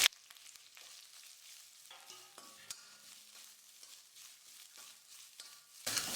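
Freshly grated coconut being lightly sautéed in a pan for savory rice-flour kozhukattai: a faint, quiet sizzle with sparse soft scrapes and clicks from stirring, and a louder burst at the very end.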